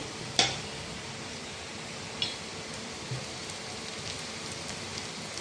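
Onions with turmeric, chilli, coriander and masala powders being stirred in a pan for a Kerala curry: a soft steady sizzle with a few light scrapes of the spoon, close and quiet, no voices.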